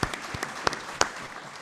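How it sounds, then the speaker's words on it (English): Fans in a room at a football club talk-in give a short, sparse round of applause, a few scattered claps that are fairly faint. "Big round of applause for Chris."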